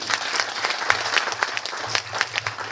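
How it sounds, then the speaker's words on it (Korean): Applause from an audience of over a hundred at a lecture course held in Gwangju, brisk continuous clapping at close range with some individual claps popping out, no talking over it. "이거야말로 박수 좀 부탁드립니다"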